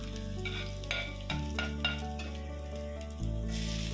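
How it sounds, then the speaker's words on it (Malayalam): Ginger, garlic and curry leaves fry in oil with a close, bright sizzle. A few quick stirring scrapes break through while a steady background hum shifts in pitch. "ഇഞ്ചി വെളുത്തുള്ളി കറിവേപ്പില ഇട്ട് നന്നായിട്ട് ഇളക്കണം."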